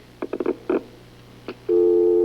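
A few short electronic beeps, then a steady telephone dial tone sets in and holds loud and unbroken to the end.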